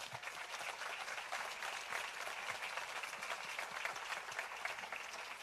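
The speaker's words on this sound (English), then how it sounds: "Yes, let's give them a hand of applause." Audience applause at the 2023 South Texas International Film Festival awards ceremony, a broad, sustained crowd clapping heard from a distance at an even level throughout.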